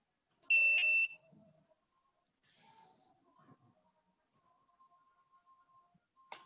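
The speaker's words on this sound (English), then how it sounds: "once we connect, all the 4 motors will start beeping" Several sharp electronic beeps sound from a drone's four motors just after its battery is connected, with a few short high tones and a sustained faint tone following in quiet surroundings.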